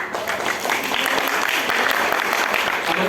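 An audience claps together in a room, a dense and fairly loud burst of applause that carries evenly through the whole moment.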